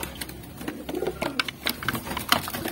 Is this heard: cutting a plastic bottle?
no